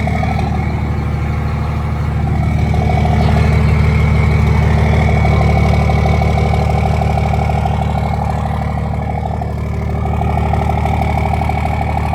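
A Cummins diesel pickup with a VP44 injection pump, five-speed manual, new exhaust and Fenley Precision Hx35R Gen V turbo runs hard under load, a heavy, steady low engine roar that holds loud and close throughout.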